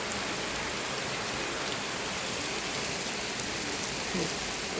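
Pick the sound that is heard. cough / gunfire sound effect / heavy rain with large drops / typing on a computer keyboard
heavy rain with large drops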